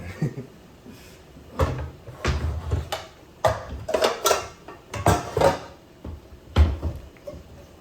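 Cupboard doors and metal pans clatter and knock in a kitchen as cookware is pulled out, a series of irregular bangs and scrapes close by, with no talking.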